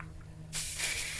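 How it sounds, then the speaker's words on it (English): Hairspray aerosol is sprayed onto styled soft-wave hair: a single sudden close, loud hiss bursts in and holds steadily after a quiet moment. "I'm gonna give it a really thorough spray"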